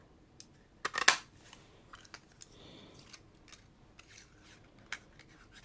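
A Taylor tag punch trims the ends of a paper card banner with one crisp, loud snap, followed by a few faint clicks and paper rustles in a quiet craft room.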